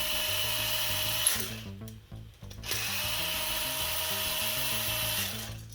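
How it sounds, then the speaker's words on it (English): Cordless electric drill driving screws into a wall electrical outlet during installation, a steady whirring run of about a second, a short pause, then a longer sustained drive, close and loud with no talking. "now you can take your nice electric drill and run these in"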